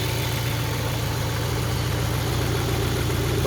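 A Peugeot 306 GTi convertible idles close by, its engine holding a smooth, even low rumble with a steady pulsing rhythm that stays constant throughout, with no talking.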